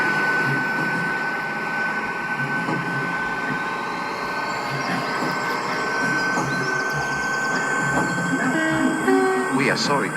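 A Class 800 train running between Cuffley and Victoria Docks, heard from inside as a steady rolling hum and rail noise with a rising whine near the end, under onboard sounds.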